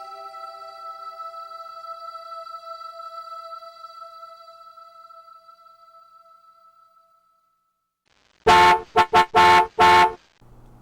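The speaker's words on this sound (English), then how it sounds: "A car horn honked in front of Colleen's house at exactly 7:30" A car horn blares in a quick series of four or five loud, close honks, some short and one held longer, following a fading sustained tone and a moment of silence.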